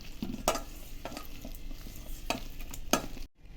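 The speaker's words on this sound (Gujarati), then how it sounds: "હવે આ રીતે મિક્સ કરતા રહીશું." Dry puffed-rice murmura vada mixture with fennel seeds and cumin being stirred in a bowl, a close scraping and rustling with several sharp spoon strokes, no talk.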